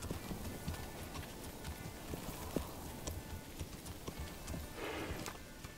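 Horse hooves clip-clop in Manor Lords video game, a steady, moderately close rhythm of hoof strikes over a constant ambient bed, with a short whinny-like sound near the end.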